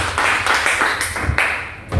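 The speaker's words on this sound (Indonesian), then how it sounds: "kita berikan tepuk tangan buat Abigail." Classroom clapping for a student during a lesson, a few loud, close, uneven claps and taps blending into a short burst of children's applause.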